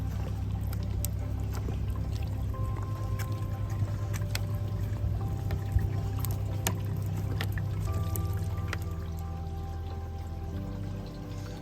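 Water pours steadily into a hydroponic pipe system with a gurgling, trickling sound and a low hum underneath, continuing evenly without speech.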